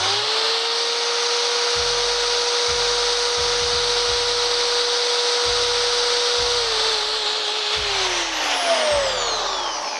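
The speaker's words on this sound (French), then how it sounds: "320 watts pour la perceuse" Electric drill drawing about 320 watts from an Allpowers S2000 portable battery power station in a van: a steady loud motor whine that winds down near the end, with repeated low thumps and knocks underneath.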